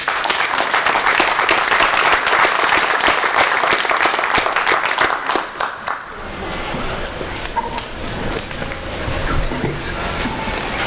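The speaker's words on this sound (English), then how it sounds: "So you all should give yourself a round of applause." Loud, sustained applause from an audience fills the first half, then fades into scattered clapping and crowd murmur.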